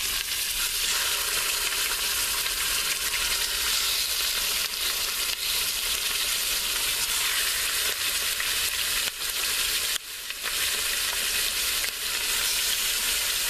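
Beef browning in a hot Instant Pot gives off a loud, steady, dense sizzle that runs unbroken the whole time, with a brief dip near the end and no talking.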